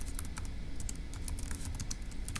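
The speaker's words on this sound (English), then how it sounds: "So let's go ahead and type that up" Rapid typing on a computer keyboard, close and steady, a dense patter of individual key clicks with no talking.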